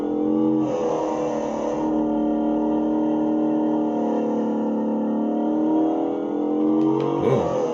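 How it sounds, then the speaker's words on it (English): A 1954 sports car engine in a racing video game revs steadily and loudly for several seconds, a sustained harmonic drone rising and falling slightly, with no voices. "It's an amazing sports car."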